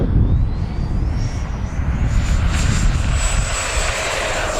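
An E-flite F-16 70mm electric ducted-fan RC jet taking off in a crosswind, a loud steady rushing roar with a rising high whine as the fan spools up, close and continuous, with no talk.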